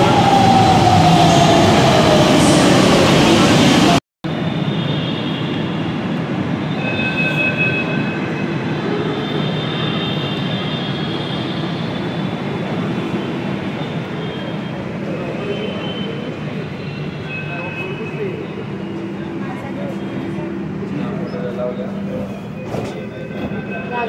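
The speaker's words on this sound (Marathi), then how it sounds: "पुण्यात सगळ्यात असा छान प्रवास म्हटलं तर पुणे मेट्रोचा" Riding a Pune Metro train: an opening loud whining hum cuts off briefly, then a steady rumbling roar of the moving carriage continues with faint tonal whines and rattles throughout, without speech.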